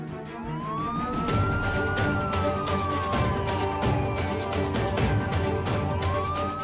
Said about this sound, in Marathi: क्या रात्री सायरन? मी बघतो.